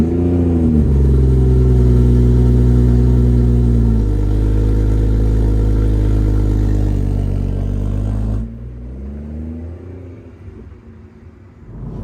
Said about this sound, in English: So let's take out the BMW first and go for a drive